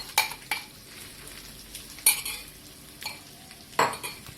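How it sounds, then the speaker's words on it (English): Lemon peel mixture stirred into hot spiced tempering in a pan for lemon peel pickle: a spoon scrapes and clinks against the pan in a few sharp strokes over a soft sizzle, close by. "just added the lemon peel mixture to this tempering, and we will stir it for 2 minutes"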